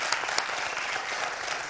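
A studio audience on a French television quiz show gives a short burst of warm applause for a food-bank volunteer, with a few sharper individual claps standing out from the steady clapping.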